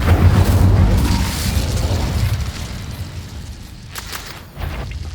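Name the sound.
Incendio fire spell blast in video game Hogwarts Legacy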